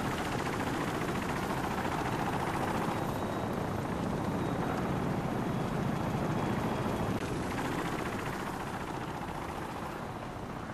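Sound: helicopter in Call of Duty video game

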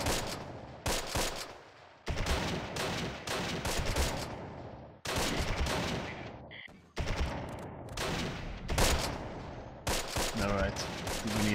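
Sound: Thompson submachine gun gunfire in video game Close Combat

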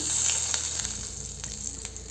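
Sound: ghee sizzling in a hot pan

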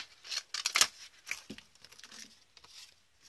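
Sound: peeling adhesive tape off coated cardboard

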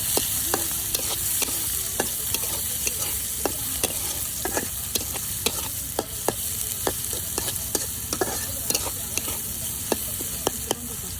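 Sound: frying garlic and green chilies in a pan

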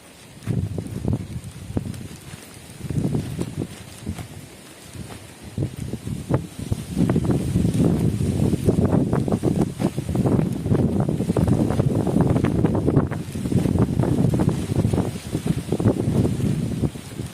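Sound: wind outdoors

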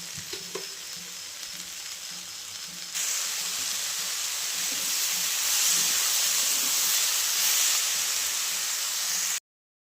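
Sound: onion and lentils cooking with salt in a pot

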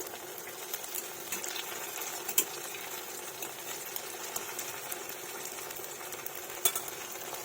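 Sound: frying pakoras in oil

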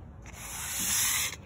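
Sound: sanding patio umbrella base with medium grit sandpaper

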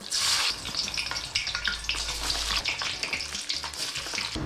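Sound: frozen french fries frying in hot oil in a wok

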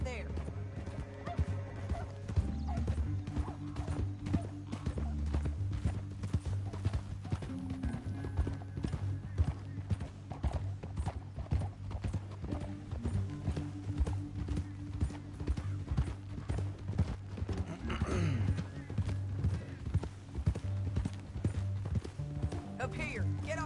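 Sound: horse hooves clip-clopping in the video game Red Dead

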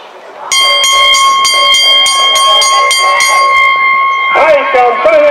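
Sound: bell ringing at a horse race track

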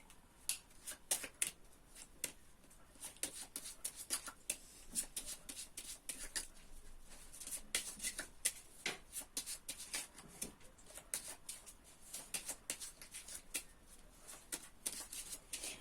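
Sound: shuffling a deck of cards

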